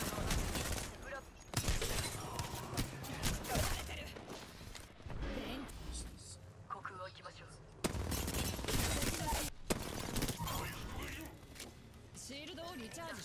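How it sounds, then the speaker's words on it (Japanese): Gunfire in the battle royale game Apex Legends during a hectic squad fight, with bursts and sustained automatic fire crackling loudly throughout, cut by brief pauses, mixed with in-game character voice callouts. "敵に撃たれてるよ。"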